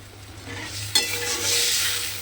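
Spice paste sautéing in a little hot oil for a hilsa fish curry: a steady close sizzle and frying hiss with stirring, and one sharp clack of a spoon against the pan partway through.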